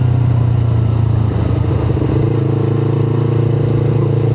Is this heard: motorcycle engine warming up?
yes